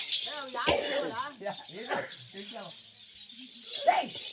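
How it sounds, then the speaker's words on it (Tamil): A dog barks, yips and whimpers in short bursts near the microphone, with people talking over and between the cries. "அது நாய் அவுத்து விட்டுருது"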